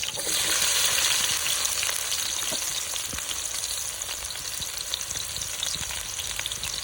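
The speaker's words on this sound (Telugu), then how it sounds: "మంచిగా వేయించుకోవాలి" Onions and green chillies fry in oil, a dense, steady crackling sizzle heard up close and fairly loud, with faint scattered pops and no speech.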